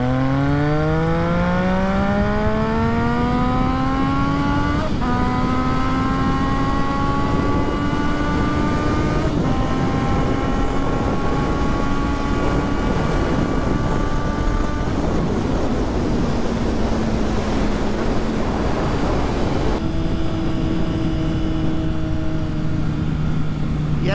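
A 600cc motorcycle accelerates hard, its engine rising in pitch through several gear changes, loud and close with heavy wind noise rushing over the microphone.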